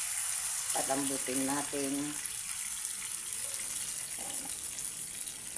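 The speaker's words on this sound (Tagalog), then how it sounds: "Lagyan natin ng tubig." Water poured into a cooking pot while making chicken sinampalukan, a steady gushing hiss running the whole time beneath a brief stretch of a person talking.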